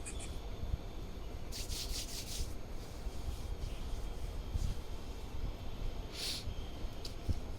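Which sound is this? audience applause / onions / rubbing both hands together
rubbing both hands together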